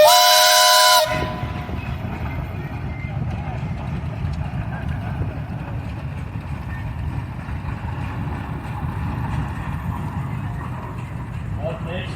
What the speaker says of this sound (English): Brian and James, you guys got a whistle?